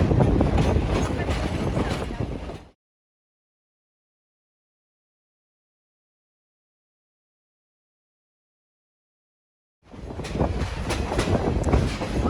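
A Verde Canyon Railroad train rolls along with a steady rumbling clatter, loud and close. It cuts out abruptly into silence for several seconds, then the rolling noise resumes just as loudly.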